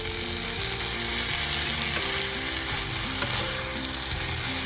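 Potato, pointed gourd and rice are stir-fried in a pan, giving a loud, continuous sizzle with a dense scraping stir throughout and no talking.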